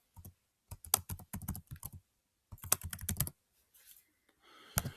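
Keys clatter on a computer keyboard as a display name is entered on a sign-up page, a close, crisp run of rapid taps in two quick bursts separated by a pause, then a few scattered clicks and a faint rustle.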